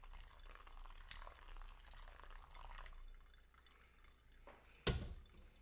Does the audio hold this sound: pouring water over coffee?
yes